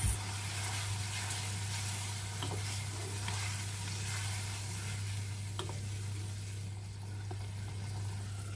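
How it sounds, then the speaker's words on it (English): A meatloaf mixture cooking on low heat in a pan gives a faint, steady simmering sizzle, with a few soft stirring clicks over a constant low hum. "Let them simmer."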